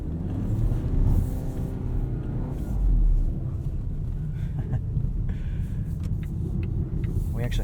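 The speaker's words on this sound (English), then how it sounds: "let's take this for a drive and see what the XC40 is like on the road" A 2020 Volvo XC40 T5 AWD R-Design on all-season tires and 20-inch wheels cruising on the road, with steady low engine and road rumble, a couple of louder swells, and faint cabin noises throughout.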